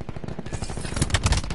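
Rapid gunfire in Black Ops 4 Hardpoint multiplayer, a quick burst of close, sharp shots in fast succession.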